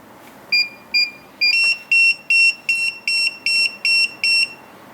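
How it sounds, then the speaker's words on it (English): A TD162 paging system pager gives a rapid string of high electronic beeps, about ten short tones in quick succession, loud and close with no voices. "As you can see, the beep is very fast."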